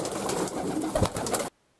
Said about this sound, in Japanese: 鳩を追い出して外に出てきました 鳩はもう集団になって飛び始めてます